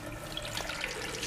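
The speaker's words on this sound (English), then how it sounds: "it's better to just leave the water running, so you don't clog the drain" Water runs steadily from a tap into a sink, a continuous close hiss and splatter with no pauses over a brief stretch.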